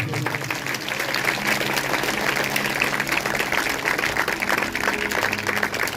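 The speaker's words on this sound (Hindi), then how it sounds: "जोर से तालियां बजाएंगे, जोर से।" Loud congregation clapping at a Sunday Hindi-language church service, a thick, continuous roar of many hands striking together that stays strong and even throughout.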